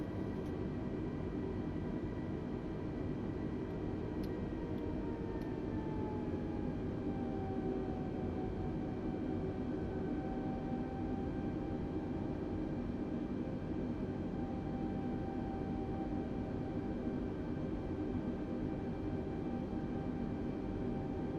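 Airbus A320neo engines in Microsoft Flight Simulator hold a steady, even roar with a faint whine that drifts lower, continuous for about twenty seconds.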